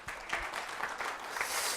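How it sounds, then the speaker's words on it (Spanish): Faint, distant applause from a church congregation during a sermon, a soft scattered clapping texture in short bursts. "Denle un aplauso al Rey"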